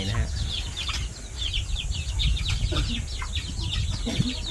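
Chickens clucking in a backyard coop, a busy chorus of overlapping clucks and short calls with some wing flapping, fairly close and continuous without speech.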